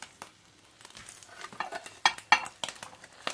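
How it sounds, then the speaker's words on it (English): Eggs frying on a metal shovel inside a wood stove, with soft sizzling and scraping broken by a few sharp clinks of metal near the end; no one speaks. "First try cooking eggs in the pan."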